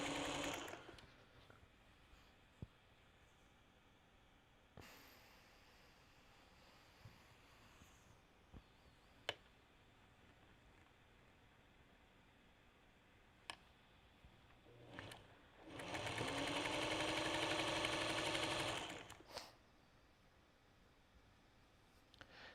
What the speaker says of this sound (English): So I'm going to start sewing in the bottom corner